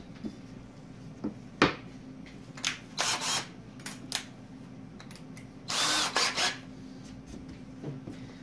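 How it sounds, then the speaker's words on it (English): Short bursts of power drilling, several brief whirs of a drill biting into acrylic making 0.2-inch holes, separated by pauses and light handling noise. "now I'm going to drill my 200 thou holes"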